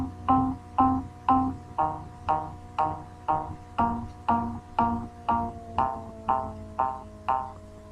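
A synthesized bass clip from the EarSketch sound library plays alone, with a repeating pattern of short plucky notes in a steady rhythm, clear and close.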